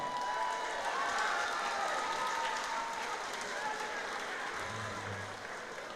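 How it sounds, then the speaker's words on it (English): Steady, dense applause from a fight-night crowd after five rounds of Muay Thai at a Bournemouth A-class 67kg bout, loud and unbroken for the whole stretch, fading slightly near the end. "A round of applause."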